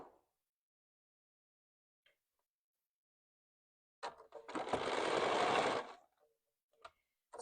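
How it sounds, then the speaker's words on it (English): A sewing machine stitches down quilt binding in one steady, fast two-second run of needle chatter, preceded by faint clicks and followed by a few soft handling taps in a quiet room. "and now I'm going to stitch down the side."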